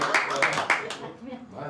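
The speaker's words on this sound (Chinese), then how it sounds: "快， 鼓掌" Several people clap their hands a few times at a festive drinking gathering, the claps brisk and close and mixed in with lively voices.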